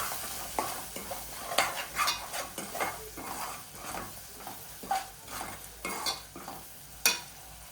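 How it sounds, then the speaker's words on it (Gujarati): Garam masala and other spices sautéing in hot oil with a soft sizzle under repeated scraping and clinking of a spoon stirring in a pan, no talking. "બરોબર તેલમાં બધું મસાલાને સાંતળી લઈશું"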